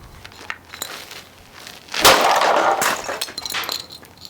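A Vicks vaporizer is smashed apart with a 1 wood golf club, a sudden loud crack and crunching break followed by a second of clattering, crackling plastic debris, with a few lighter knocks before and after.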